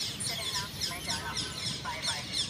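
Mynas and sparrows call outside a home, a busy run of repeated chirps and chatter that carries on steadily at moderate distance over low background noise.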